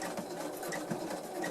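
A domestic sewing machine stitches through thick denim while repairing torn jeans, a fast, steady, close mechanical whir with rapid needle pulses.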